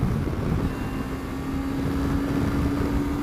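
A Suzuki V-Strom 250 motorcycle engine runs at speed after dropping from sixth gear at about 60, a loud, steady drone blended with heavy wind rush and no clear surge.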